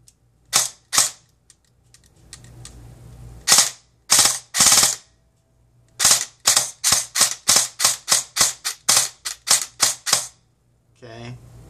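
An airsoft gun with a Nano Nukefet runs on a 7.4 battery and fires in semi-auto, giving sharp single shots in an uneven string that quickens into a steady rapid run, close and loud with no talking.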